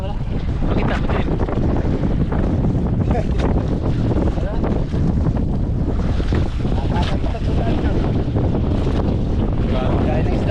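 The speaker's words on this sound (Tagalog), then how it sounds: "Lakas yung hangin." Strong wind buffets a fishing boat at sea during a night catch, a loud, unbroken roar of wind against the microphone mixed with water, with voices talking underneath.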